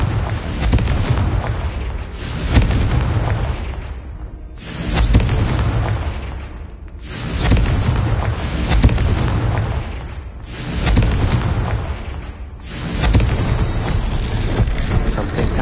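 Confringo explosion spells cast again and again in a PS4 video game, a run of loud booming blasts, each followed by a rumbling tail, evenly spaced about two seconds apart.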